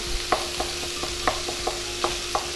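Chorizo sizzles in a frying pan while a spatula smashes it down, making a low sizzle under a series of regular, close taps and presses roughly every quarter second.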